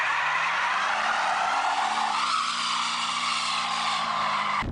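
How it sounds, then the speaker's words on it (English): A Mercedes 450 SEL 6.9 does a burnout down a road. Its tires give one sustained, loud squeal that bends upward midway over a low engine drone, then cuts off sharply at the end. "Doing a burnout down the road with it."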